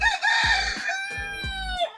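A rooster crows loudly nearby, its call rising and falling over about two seconds, with a hen's clucks mixed in.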